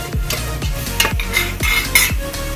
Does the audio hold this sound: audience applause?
no